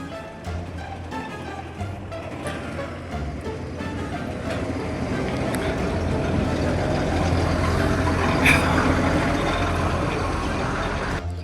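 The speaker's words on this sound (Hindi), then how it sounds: "सो अब गाड़ी चलने के लिए रेडी है, जो कि जा रही है अब खेत पे।" A combine harvester heading out to a field, with a steady heavy engine rumble that swells slightly as it moves off, close and continuous with no talk over it.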